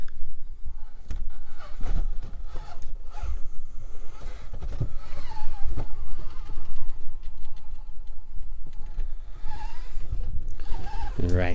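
A Furitek FX118 Katana brushless RTR RC car runs through a canyon, giving a steady close rough crunching and buzzing drive noise with bumps and surges throughout.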